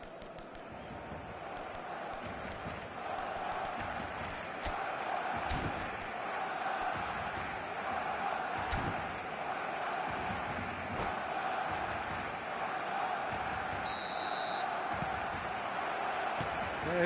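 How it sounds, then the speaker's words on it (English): A stadium crowd in the eFootball 2026 video game keeps up a constant broad roar of cheering and chanting. It stays steady and fairly distant, with a few sharp claps and bangs, and no talking over it. "This crowd doesn't do ordinary, and we should be in for something very special."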